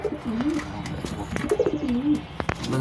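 A pigeon coos in low, rolling repeated phrases close by, mixed with scattered clicks and handling noises.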